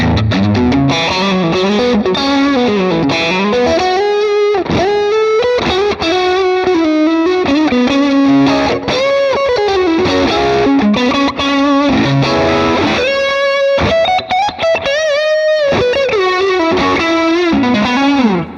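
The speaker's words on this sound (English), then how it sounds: "now let's go for distortion. So I'm going to turn it on now." An electric guitar through the distortion effect on a Valeton GP-200 multi-effects unit plays a sustained, saturated melodic lead with bends and a few short gaps, loud and upfront with no talking.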